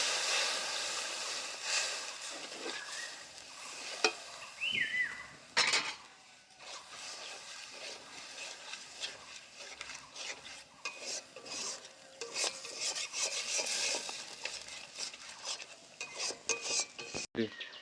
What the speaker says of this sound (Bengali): অল্প আঁচে মশলা কষতে দিয়েছি।